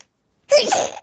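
One short, sharp sneeze, close and loud, bursting out of silence and cutting off after about half a second.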